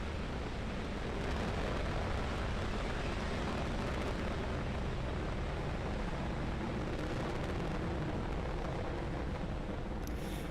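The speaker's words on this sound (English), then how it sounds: "there is successful liftoff of Falcon 9" Falcon 9 rocket lifting off on the CRS-18 Dragon resupply launch, a dense, steady broadband roar sustained for about ten seconds, rumbling and distant-sounding without distinct peaks, no voices.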